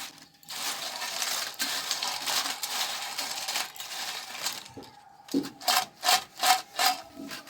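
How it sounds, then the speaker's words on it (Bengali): Homemade potato chips, fried from raw potato slices straight in oil, are snapped and crushed by hand: a steady dry rustling crackle, then a run of five or six louder, rhythmic crunching breaks close up, with no voices. "তো আওয়াজটা শুনে বোঝা যাচ্ছে যে কতটা কুরকুরে হয়েছে"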